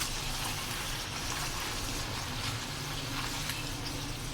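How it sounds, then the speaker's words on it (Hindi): Chicken frying in a pan with ginger-garlic paste over medium-low flame, a steady, faint sizzle and hiss running unbroken throughout. "फ्राई करेंगे चिकन को।"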